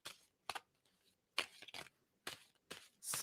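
Tarot cards are shuffled in short, crisp riffling bursts, about half a dozen quick flutters separated by brief pauses, close and quiet with no talking.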